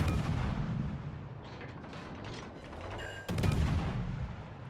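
Naval ship gunfire from the video game World of Warships: Legends booms heavily over a dense rumbling battle background, with a sharp louder salvo near the end and no speech.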